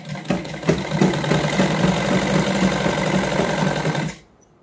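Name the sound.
sewing machine stitching a salwar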